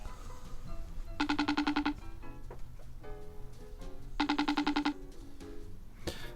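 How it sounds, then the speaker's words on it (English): A video call ringtone plays while the call connects, sounding as two bursts of rapid electronic chiming with softer clatter and background sounds between them, and a sharp click at the end. "phone old Janice Anderson and find out."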